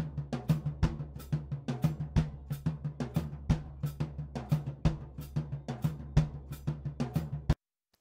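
Drum kit with an 18-inch Paiste Signature full crash, picked up by a Blumlein pair of Golden Age Project R1 Mark III active ribbon mics a few meters away; a steady groove of kick and snare hits with roomy decay, no talk.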